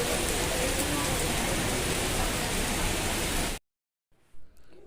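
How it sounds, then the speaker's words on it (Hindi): Heavy rain pours steadily as a dense, loud hiss in a market area, continuing for over three seconds before cutting off abruptly into near silence with faint background sounds. "बारिश तो तेज होती जा रही है"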